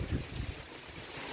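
Strong wind and heavy rain lashing a village in the afternoon, a dense steady rush of gusting air and downpour, loud and continuous with no voices.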